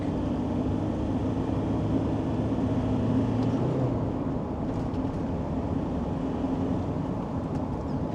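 Land Rover Defender 2.4 diesel engine with Stage 2 tuning and a six-speed gearbox, heard as a steady loud drone from inside the vehicle while it accelerates, with a shift in pitch partway through as it changes gear.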